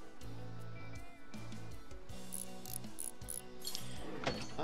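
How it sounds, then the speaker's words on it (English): Repeated ratchet bursts from unbolting tractor wheel parts in Farm Mechanic Simulator 2015, each a quick run of clicks, with a few higher metallic clinks between, close and alone. "Off with the wheel, unbolting it."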